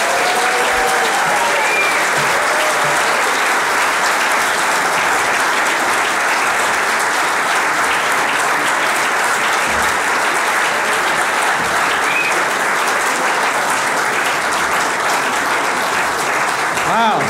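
A large audience at a baseball induction ceremony applauds in a loud, sustained ovation, with some cheering mixed in, welcoming an inductee to the stage.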